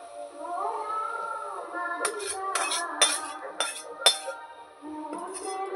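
Fried ingredients tip into a pan of fried rice with a run of metallic clinks and scrapes of a utensil against the pan, close by, as a voice talks around the clatter.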